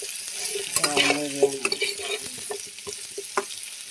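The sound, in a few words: fish being stirred and fried in oil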